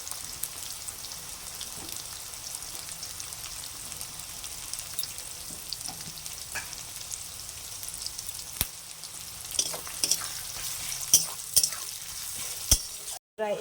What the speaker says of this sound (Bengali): তো পেঁয়াজটা ভেজে নেব, তো লাল করে ভেজে নেব।